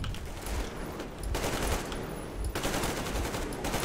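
Rapid automatic gunfire in the video game Metro Exodus, dense bursts of shots rattling in quick succession with brief gaps between volleys, loud and close.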